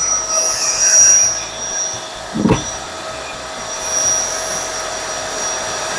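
A Hitachi vacuum cleaner runs with strong suction, a loud, steady close-up whine and rushing air throughout, with a brief sharp knock midway and no speech.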